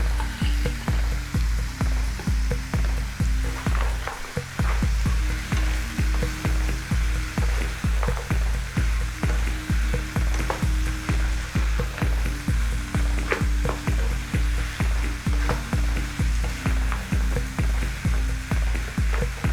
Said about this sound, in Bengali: থোড়টা কষানোর সময় আমি ভেজে রাখা বড়িগুলো দিয়ে দেব।